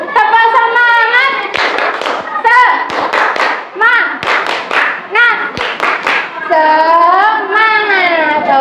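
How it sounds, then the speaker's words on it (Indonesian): A fourth-grade class chants the 'tepuk semangat' clapping routine in unison, children's voices rising and falling in sung phrases punctuated by sharp, rhythmic hand claps, loud and close. "Tepuk semangat."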